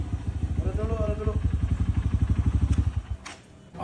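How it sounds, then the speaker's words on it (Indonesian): A motorcycle with a rattling exhaust sputters in a fast, steady burbling rhythm close by, while a voice talks over it before the engine note drops away near the end. "ini motor knalpotnya sampai beberebetan begitu"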